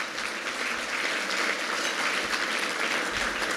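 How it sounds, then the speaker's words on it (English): Sustained applause from a community forum audience fills the room, a dense, even wash of clapping lasting the whole moment with a few louder claps near the end. "So maybe we could give a round of applause to them"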